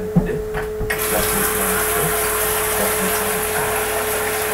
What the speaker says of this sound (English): You boil the pot, then add water.